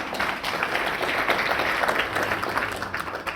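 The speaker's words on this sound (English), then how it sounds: "Please your applause." Audience applause for the Slovenian ambassador to Bulgaria at a eurozone conference: a steady, dense wash of clapping from a crowd, moderately loud and even throughout with no voices on top.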